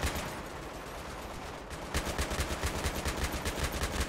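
Battlefield 3 gunfire: a quiet opening gives way to rapid, rhythmic automatic bursts that continue steadily at a moderate distance, with no talking.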